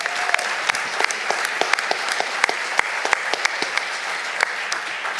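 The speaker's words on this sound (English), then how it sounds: "Give a warm round of applause to Belle Ribeiro-Addy," A crowd at the National Action Network convention applauds steadily, a dense even wash of clapping with sharper individual claps popping out, continuing throughout without a break.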